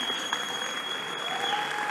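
Steady audience applause at a blockchain technology presentation, a dense continuous crowd of clapping hands holding an even level throughout with no one speaking over it.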